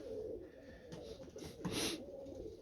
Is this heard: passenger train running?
no